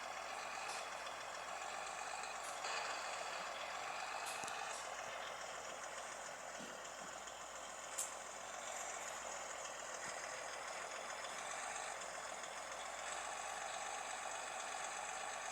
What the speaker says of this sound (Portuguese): O caminhão não quer nem engatar